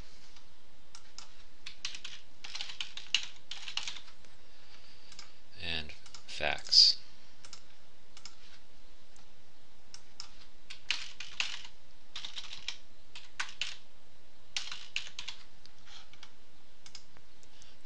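Typing on a computer keyboard in bursts of quick, light clicks, close and fairly quiet, with pauses between runs and a couple of louder mouse-like clicks midway.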